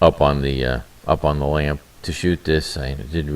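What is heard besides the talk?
No everyday noises stand out.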